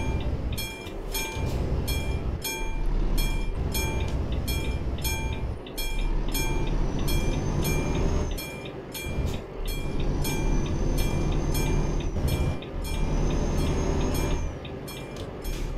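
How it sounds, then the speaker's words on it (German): A train rolls past in Euro Truck Simulator 2, a long continuous rumble with rapid rhythmic clickety-clack of wheels on rail joints, loud and close throughout, with brief dips as carriages go by and no talking. "Also hier fährt irgendwo ein Zug."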